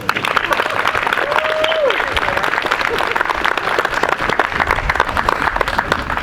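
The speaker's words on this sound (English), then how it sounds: "how about just a round of applause for our engineers" A crowd at a groundbreaking ceremony for the Linden Mill project gives a steady round of applause, dense clapping, loud and sustained throughout, with a brief voice or whistle rising above it.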